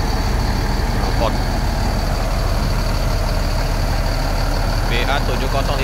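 A large bus idles with a steady, loud low engine rumble and exhaust drone throughout, while people talk faintly in the background.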